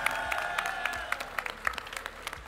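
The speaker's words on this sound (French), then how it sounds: "On peut l'applaudir les amis" Crowd at the Paris Games Week convention clapping for a cosplay armor maker, a dense burst of applause with sharp individual claps standing out near the microphone, gradually thinning toward the end.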